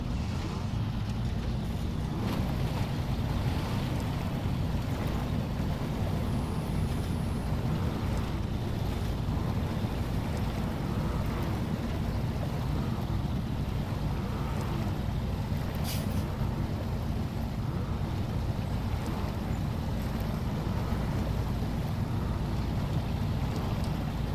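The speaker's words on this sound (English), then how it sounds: "I thought I turned the Jeep engine off." A Jeep's engine idles steadily in SnowRunner, a continuous low rumble with a windy, rushing wash laid over it, loud and unbroken throughout.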